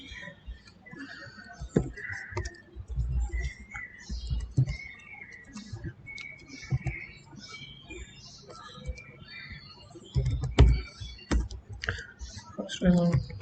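Code being typed on a computer keyboard while writing a Qiskit quantum circuit, soft irregular key clicks in short runs with occasional louder taps and muffled voices underneath.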